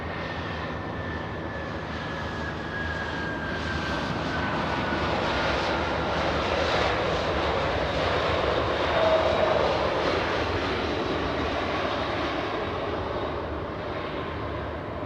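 Jet airliners at LAX airport produce a continuous broad roar that swells slightly and fades, with a faint descending whine threaded through the engine noise.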